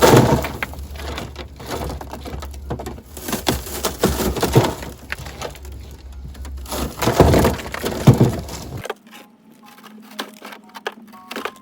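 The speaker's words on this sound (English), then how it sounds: "while I was pushing the glass out, I saw some glass particles flying around" Rear quarter panel glass on a 2006 Hummer H3, driver side, being pushed out of its frame: dense crackling, snapping and splintering bursts continue for about nine seconds, then stop abruptly, leaving a quieter hum.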